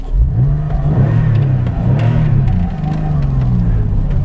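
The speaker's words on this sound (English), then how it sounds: "I'll pop it in neutral and just rev the engine." A 1998 Porsche 911 (996) flat-six revs in neutral, a loud, close, steady engine note whose pitch swells and falls in several repeated blips without a break.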